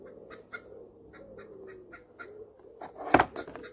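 Chickens cluck nearby in short repeated calls, with a louder squawk near the end.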